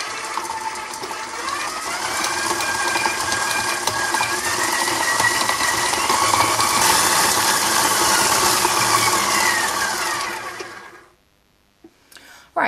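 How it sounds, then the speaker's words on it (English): An electric mixer creams butter and sugar with a steady whirring motor hum whose pitch wavers slightly, running continuously for about ten seconds before cutting off abruptly, leaving near silence. "I've added the butter to the mixer, and now I'm going to add my 1/2 cup of sugar and just give that a good mix"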